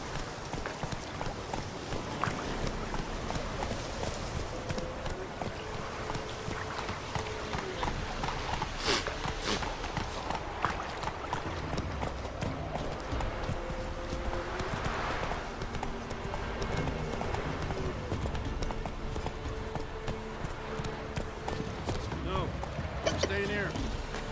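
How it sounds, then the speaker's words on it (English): Geralt's horse galloping in The Witcher 3 on PC: steady, close clip-clop of hooves runs for the whole stretch, with an occasional faint whinny, under game dialogue and ambient sound. "Whoa there, Roach"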